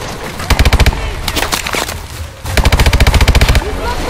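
Rapid machine-gun bursts crackle loudly in Call of Duty: Advanced Warfare, with two long, evenly spaced volleys separated by scattered shots. Brief shouted voices break in between the bursts.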